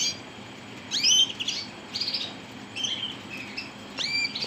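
Norwegian crested canaries give a few brief, sharp chirps and short trills at intervals, fairly faint against a quiet room.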